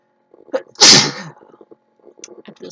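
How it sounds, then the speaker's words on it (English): A woman sneezes once, sharply and loudly, in the middle of soft, indistinct talk that goes on before and after the sneeze. "when I sneeze"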